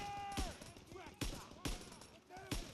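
Call of Duty WW2 battle gunfire: sharp, loud shots ring out in four separate bursts spread over a few seconds, against a backdrop of battlefield ambience with voices shouting.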